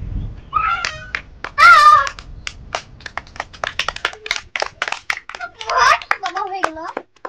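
Children at a vegetable-matching game clap their hands together in bursts of uneven sharp claps. Excited young voices and squeals rise over the claps in two loud spots.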